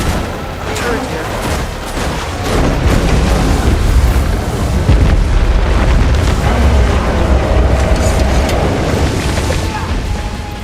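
Turret explosions in Guild Wars 2 roll on as a dense, loud rumble of booms and gunfire-like cracks for about ten seconds, with game sounds layered throughout.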